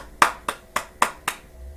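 Five sharp hand claps from one person, evenly spaced about a quarter second apart, close and fairly loud with no talking.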